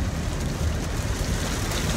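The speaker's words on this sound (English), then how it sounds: "and it is pouring again" Heavy rain pours outdoors in a dense, steady hiss that fills the whole stretch without letup, loud and close, with some rushing wind-like roar mixed in and no talking.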